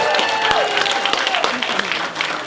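Audience at a film Q&A panel applauds and cheers as panelists are introduced, a steady wash of clapping with scattered whistles and shouts over a speaking host.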